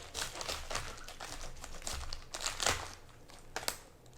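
A knife cuts the core out of a cabbage, giving a close, faint series of irregular crisp crunches and crinkling snaps as the leaves and core are sliced, with no talk.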